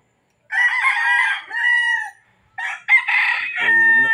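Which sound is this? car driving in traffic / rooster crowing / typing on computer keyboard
rooster crowing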